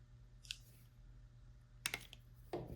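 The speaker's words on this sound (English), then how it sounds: "I would just keep applying some force until you hear it completely click into place." A pet grooming brush attachment snaps onto a handheld vacuum with a few sharp plastic clicks, a light one early and two louder, closer snaps near the end, over a quiet background hum.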